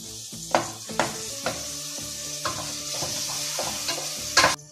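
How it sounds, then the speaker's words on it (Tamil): Tomatoes and green chilies fry in a pan for chicken curry, a steady sizzle under repeated scraping stirs and spoon knocks against the pan, close and moderately loud. "ஸோ தக்காளியும் பச்சை மிளகா நம்ம கட் பண்ணி வச்சுருந்த எல்லாத்தையும் போட்டாச்சு"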